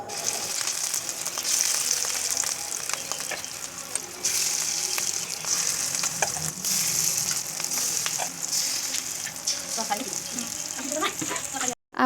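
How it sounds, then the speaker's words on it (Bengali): Fish roe fritters frying in a pan give a steady, close sizzle that runs throughout, with faint clinks and small kitchen sounds but no clear talk. "আর এখানে মাছের ডিমের বড়া ভাজা হবে"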